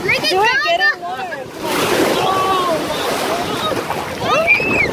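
A puppy swims in the sea amid splashing and surf wash, a broad rushing water sound with wind noise up close, while people talk and call out excitedly before and after.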